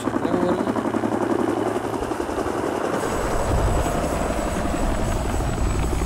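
A helicopter in the video game Tchia thrums with a steady, loud rotor chop throughout, joined partway by a faint high whine.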